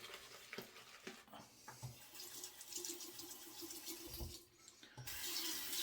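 Water trickles and splashes from a tap onto a Mystic Water Bay Rum shave soap puck, quiet and close, with uneven runs of flow and small knocks.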